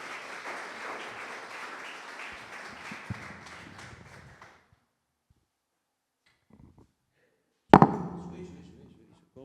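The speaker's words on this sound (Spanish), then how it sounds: "Le damos un fuerte aplauso a Andrés." Congregation at a church service claps in a steady wash for about four seconds, then the room falls quiet before a single sharp, loud knock or thump rings out near the end.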